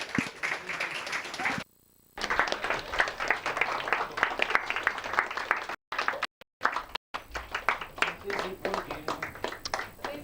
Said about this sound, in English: big round of applause for him, and just keep that going